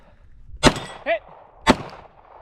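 Bullets striking a steel target at a run-and-gun shooting match: two sharp, loud metallic clangs about a second apart, each with a brief ringing tail, and a faint short tone between them.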